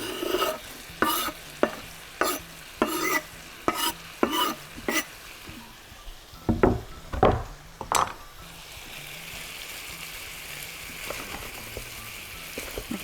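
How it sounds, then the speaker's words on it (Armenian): Red onion and chicken frying in a pan, a run of sharp rhythmic clanks of a utensil against the pan over steady sizzling, then a few louder knocks before the sizzle carries on alone and quieter. "Լավ տապակվի, հետո կխառնեմ։"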